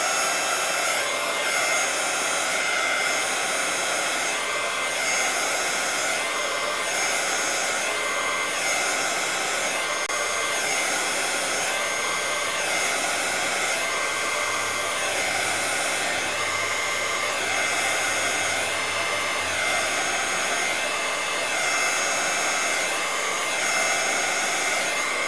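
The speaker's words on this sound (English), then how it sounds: "So I'm going to shoot it here with the heat gun." A heat gun blows steadily over a resin mold, a loud continuous hissing rush of air with a slight rhythmic wavering, running unbroken throughout with no voices.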